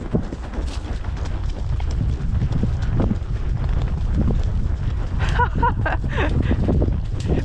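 Horse trotting along a path outdoors, steady hoof beats under heavy wind noise, fairly close, with no clear talk.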